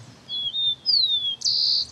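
A rufous-collared sparrow, Chile's commonest small bird, sings a short series of thin, high whistled notes: two or three sliding tones followed by a sharp trill, clear and fairly close against a quiet background.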